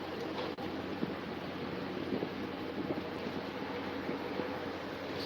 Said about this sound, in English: That's a motor.